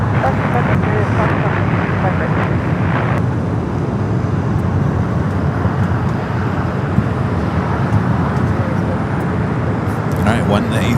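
An Airbus A380 airliner moves across the ground at Los Angeles International Airport, giving a steady, broad jet roar from some distance that holds without a break.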